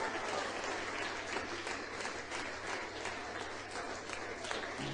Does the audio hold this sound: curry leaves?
no